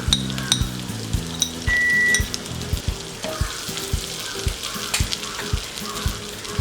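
Ginger, garlic, bay leaves and cloves frying in a pan for a vegetable soup, a steady sizzle marked by regular stirring knocks and clinks of a utensil against the pan.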